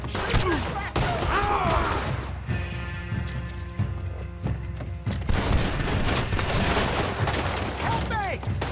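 A chaotic Red Dead Redemption 2 gunfight at Clemens Point, with dense, continuous gunshots and crashing impacts over shouting voices and background score.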